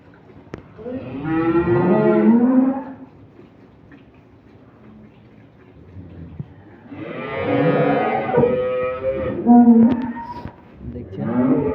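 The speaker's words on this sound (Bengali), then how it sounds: "এই যে এই গাভীটা দুধ দহন করতেছে" A young dairy cow being milked in the morning gives two long, loud, close moos, the first early on and the second after a quiet stretch, with a shorter low call near the end.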